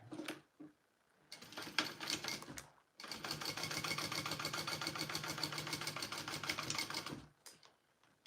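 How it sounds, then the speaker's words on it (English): Sewing machine topstitching along the exterior side piece of a bag, a rapid rhythmic mechanical clatter in short bursts, then a long steady run of several seconds, close and fairly quiet. "we're gonna top stitch along this exterior side piece here"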